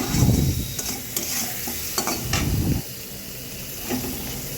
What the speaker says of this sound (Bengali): মিলিয়ে নেওয়ার পর কিছুক্ষণ ফ্রাই করে নিলাম ফ্রাই করে লাল লাল করে ভাজা হয়ে গেছে